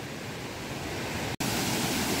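Waterfall in the Konkan countryside during heavy May rain, a steady loud broadband roar of falling water close by, continuous and unbroken apart from a brief cut, with no voices.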